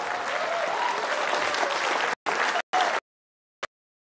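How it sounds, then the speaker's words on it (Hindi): An audience at an interview event stands and claps warmly, dense sustained applause that cuts off abruptly, returns in two short bursts, then a lone clap. "एक बार खड़े होकर जरा गर्मजोशी से ताली बजा दीजिए"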